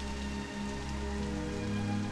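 Steady rain falls in an even patter, close and fairly soft, under a low constant hum, with no talking.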